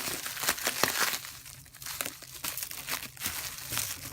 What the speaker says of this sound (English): I gotta get all this plastic off.